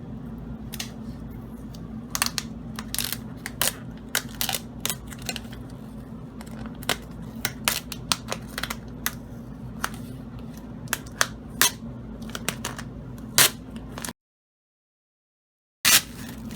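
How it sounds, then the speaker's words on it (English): A UV DTF sticker print being peeled off a pizza pan door hanger sign, with a string of sharp crackling snaps and ticks over a low steady hum, then a brief silence near the end. "And now we're going to peel."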